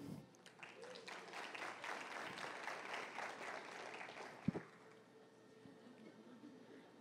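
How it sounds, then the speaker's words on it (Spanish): Steady clapping from a crowd, dense and continuous for several seconds, then tapering off with a sharp thump near the end. "Denle un aplauso a Vale."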